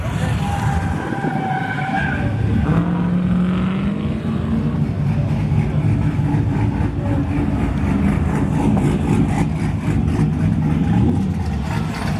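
A Hot Rod Garage twin-engine Impala hot rod runs at an autocross at LS Fest East, its engines droning loudly and steadily with a shifting pitch, close by, with no talk over it.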